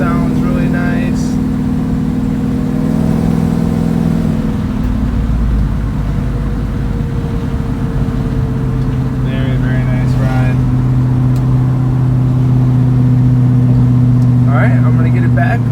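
A 1966 Ford Mustang with manual steering and brakes cruises with its engine humming steadily and smoothly, heard from inside the car under road noise while someone talks now and then.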